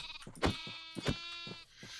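Sheep in the Minecraft video game bleat in quick succession, several short nasal baas overlapping at close range, loud and clear with no speech.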